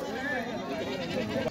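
Sheep bleat at a bustling goat and sheep market in Mungeli, Chhattisgarh, their wavering cries rising amid crowd chatter and voices close by.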